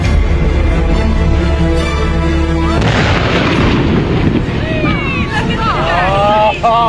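A whale carcass explodes midway with a heavy rumbling blast, breaking a steady low drone into a noisy roar with scattered crackling and whistling tones afterward.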